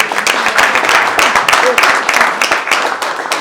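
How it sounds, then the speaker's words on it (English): A small group at a mayoral luncheon gives a round of applause, uneven close claps with distinct individual hits, fairly loud, with some voices mixed in. "Can we give you a round of applause?"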